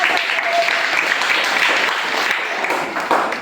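A group of students at a village primary school quiz applauds a classmate with steady, dense clapping that lasts the whole stretch at a fairly loud, even level.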